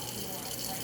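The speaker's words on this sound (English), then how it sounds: "Always remember to wash your peas, be it red beans, black eyed peas," Running water rushes steadily over red beans, black-eyed peas and lentils being washed for a beef soup, a dense continuous gush like a faucet filling a sink, close and fairly loud throughout.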